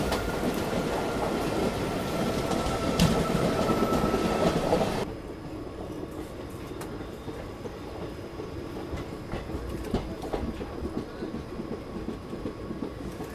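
Kosi Superfast Express train pulling into Muri Junction, a loud, steady rumble of railcars and wheels on track that drops to a quieter rolling clatter with faint squeals partway through, no talk.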